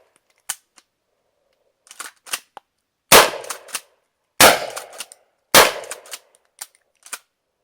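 A Kel-Tec KSG shotgun fires a handful of sharp, loud blasts spaced about a second apart, each followed by a short ringing tail, with lighter clicks and clacks of handling and pumping between shots.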